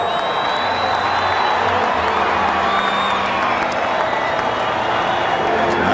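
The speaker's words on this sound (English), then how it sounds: "Nice round of applause for Robin Ventura, who hit his first major league home run last inning off Roger Clemens." A baseball stadium crowd at a 1990 Red Sox–White Sox game applauds a home-run hitter, a broad wash of clapping and cheering with scattered whoops, continuous and loud, under a broadcaster's voice.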